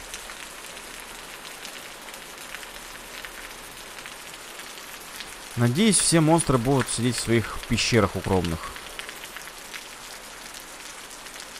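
Steady rain in the video game Osiris: New Dawn, a continuous hiss of falling drops throughout, with someone speaking over it for a few seconds in the middle.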